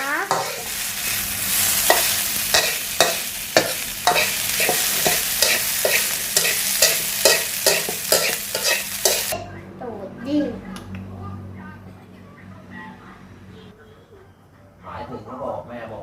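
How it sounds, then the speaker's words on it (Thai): Rice being stirred and broken up while it fries in a pan with fish sauce, loud rhythmic scraping strokes over a sizzle, then quieter with someone talking near the end. "นี่นะคะเราก็จะทำการยี่ข้าวแบบนี้นะคะ พื่อให้ข้าวมันดูเป็นเมล็ดนะคะ"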